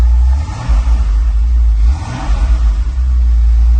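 A Porsche 993 Carrera 4 Cabriolet with 18,000 original miles gives a deep, close rumble as its engine is blipped twice, low revs swelling and settling back to idle.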